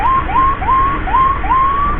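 Loud, close electronic yelp siren from a Mitra Medika emergency ambulance, five quick upward-sweeping wails in a steady rhythm over engine and road noise.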